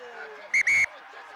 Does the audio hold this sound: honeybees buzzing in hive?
no